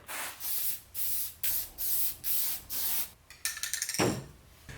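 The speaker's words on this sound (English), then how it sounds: "Let's spray this thing down." Several short hissing bursts from a spray can of fixative in a steady rhythm, followed by a quicker sputtering spray near the end, close and clear.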